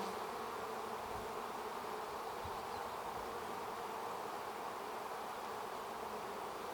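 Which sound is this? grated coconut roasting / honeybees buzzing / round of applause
honeybees buzzing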